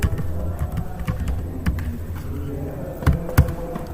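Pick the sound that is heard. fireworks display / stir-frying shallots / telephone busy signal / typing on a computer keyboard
typing on a computer keyboard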